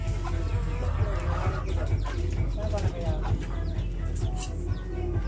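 Chickens cluck close by on a small vegetable mini farm, a steady chorus of low clucks with occasional chirps, while people talk over them.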